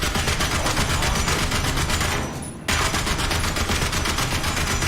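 Sustained tank machine-gun fire in the T34 Berlin video game, a dense, continuous rattling burst that runs nearly the whole time, loud and close, with a brief dip in the middle before the firing resumes.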